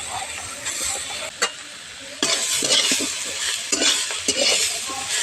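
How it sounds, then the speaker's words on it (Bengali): Drumstick flowers (sojne ful) are stirred and fried with vegetables, turmeric and salt in a pan, a close sizzle broken by repeated scraping strokes of a spatula. "সেই ফুলগুলো এর মধ্যে দিয়ে একটু ভেজে নেব।"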